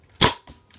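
A Nerf Cyclone Shock blaster fires a single sharp, loud shot with a snappy burst, followed by two fainter, short knocks a moment later.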